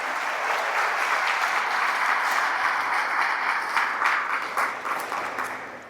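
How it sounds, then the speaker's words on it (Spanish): Steady, loud applause from a church congregation fills the whole stretch, dense and continuous, fading a little toward the end. "Dele un fuerte aplauso a Cristo."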